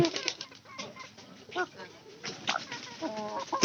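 Hens cluck and call close by in a busy rural yard, with scattered short squawks and some wing movement, while people talk faintly in the background.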